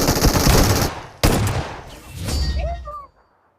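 Rapid automatic gunfire in the BGMI (PUBG) battle royale game, a dense burst of close shots, then a sharp single crack and another rattling burst fading to quiet, with a few metallic pings near the end.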